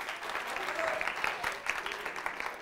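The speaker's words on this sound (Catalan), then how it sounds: "Un aplaudiment per ells, si us plau." A studio audience claps for a school quiz team on the Catalan TV quiz show Pica Lletres from Canal Terrassa. The applause is moderate and steady, with voices talking over it.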